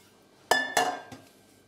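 A spoon stirs legume soup with water in a bowl for the microwave, giving three quick, light clinks against the bowl, faint and close in an otherwise quiet room.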